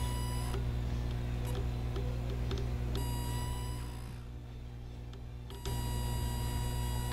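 A multimeter's continuity tester beeps while probing a motherboard during repair, giving a sustained tone that cuts off, returns briefly in short chirps, drops out, then resumes steadily over a low electrical hum.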